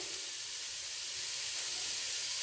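A whole white onion hits hot avocado oil in a heated chili pot, giving a steady, bright, loud sizzling hiss that holds without a break, close up.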